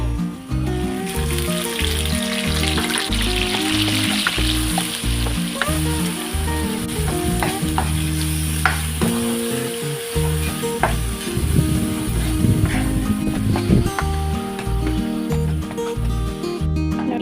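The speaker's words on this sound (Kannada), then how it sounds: "ಈಗ ರುಬ್ಬಿ ಇಟ್ಕೊಂಡಿದ್ದ ಪೇಸ್ಟ್ನ ಹಾಕ್ತಾ ಇದ್ದೀನಿ" Ground masala paste for mutton kofta curry sizzles and crackles steadily in hot oil, loud and close, with occasional stirring scrapes throughout.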